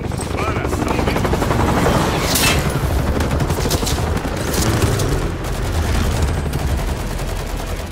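Gunfire in the video game Call of Duty: Modern Warfare III, a dense, continuous barrage of shots and rumbling blasts with helicopter-like drone underneath, loud and unbroken throughout.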